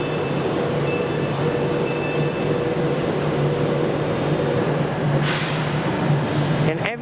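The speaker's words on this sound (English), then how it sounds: "Train that came from London Euston earlier this morning." A train from London Euston arriving at Glasgow Central station, a steady rumble with a low hum and faint high whine, then a brief hiss and a few sharp clanks near the end.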